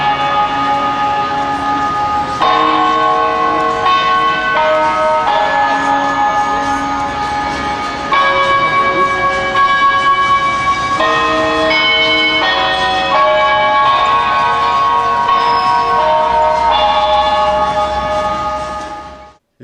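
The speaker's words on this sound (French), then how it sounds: "Cette pagode clinquante est vraiment kitsch avec son carillon électronique." An electronic carillon at a flashy Chinese pagoda plays a loud, sustained melody of ringing bell tones, note after note for nearly twenty seconds before fading out.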